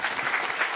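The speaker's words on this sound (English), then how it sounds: "A round of applause for this incredible panel." A panel audience applauds steadily in a dense, even wash of many hands clapping, fairly close and sustained with no voices on top.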